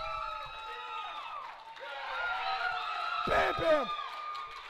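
A powerlifting crowd at a national meet roars and cheers as a lifter locks out an 804-pound lift, with loud whoops rising to a peak under an excited announcer's voice.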